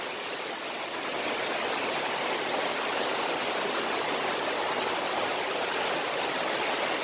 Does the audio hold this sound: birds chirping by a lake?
no